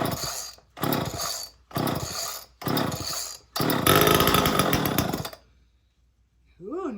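A chainsaw cold-started with a few throttle pumps: four short bursts of a rough, sputtering engine, each cutting out, then a longer loud run before it dies to near silence. A brief voice follows.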